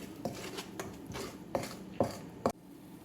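A spoon scrapes and taps against a pot as rice seasonings and oregano are stirred together, giving a few soft, irregular knocks that grow sharper toward the end, with no voices.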